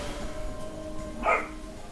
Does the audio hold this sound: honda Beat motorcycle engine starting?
no